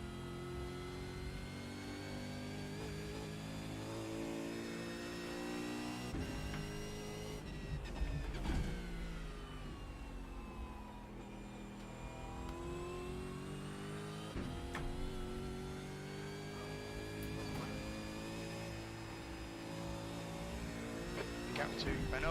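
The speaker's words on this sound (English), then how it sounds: "you want to try and blip the throttle on the downshift" A race car engine in iRacing at Bathurst holds a steady, loud drone, with rising and falling revs and short throttle blips on downshifts throughout; someone talks over it.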